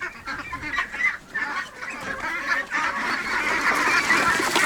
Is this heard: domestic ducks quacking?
yes